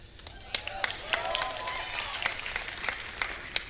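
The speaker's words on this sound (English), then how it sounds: "There's a round of applause breaks." Applause from an audience at the Bethesda E3 2018 showcase, dense scattered clapping with sharp individual claps standing out, steady and fairly close throughout.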